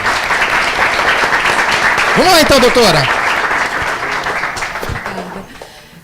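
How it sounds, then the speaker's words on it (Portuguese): TV studio audience applauding on a Brazilian youth talk show, a dense steady clapping that runs throughout under a voice and slowly fades toward the end. "Pergunta do Arthur, palmas aí,"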